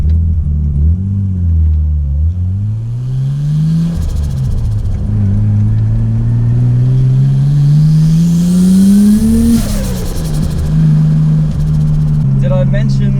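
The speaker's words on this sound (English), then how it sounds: "This thing has honestly been a better sounding turbo setup than any of the cars that I've had." A small turbocharged car engine revving up and down through rising and falling pitches, loud and close, with a brief whooshing turbo hiss near the end.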